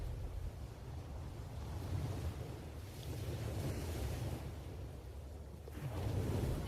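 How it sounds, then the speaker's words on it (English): Ocean surf on a sandy beach below a steep cliff, a steady broad wash of waves rolling in and receding with gentle swells of loudness, soft and continuous with light wind and no voices. "Its powerful waves are crashing on the shore."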